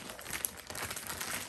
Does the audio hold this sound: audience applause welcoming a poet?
no